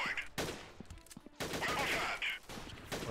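Pistol shots ring out in a guerrilla-warfare shooter game, several sharp bursts in close succession, moderately loud with brief gaps between them.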